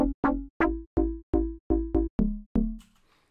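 A deep house synth bass built by FM, one oscillator modulating another, playing nine short punchy plucked notes in a bouncy rhythm, each with a bright attack that quickly fades, alone and close.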